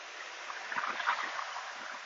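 River water flowing over chiseled rocks between South Glens Falls and Glens Falls, New York, a steady hissing rush close by with soft splashing pulses throughout.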